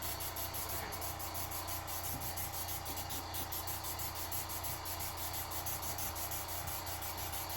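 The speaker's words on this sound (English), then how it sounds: "I will show you how I'm going to spray this whole shoe." Spray paint hissing onto a Jordan 1 sneaker for a matte finish, a steady faint aerosol spray running continuously at close range with no talking.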